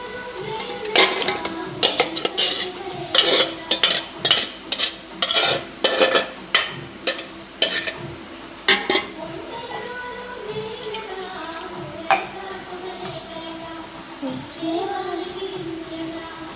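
Chicken pieces stirred into a yogurt marinade in a metal pot for chicken dum biryani, with a run of sharp, rhythmic clanks and scrapes of a spoon against the pot, then quieter wet mixing sounds and a few lone knocks.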